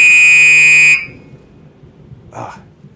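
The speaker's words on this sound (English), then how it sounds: "Those are fire alarms going off." A fire alarm blares as a loud, steady electronic tone for about a second, then cuts off, leaving faint background noise and a brief voice-like burst near the end.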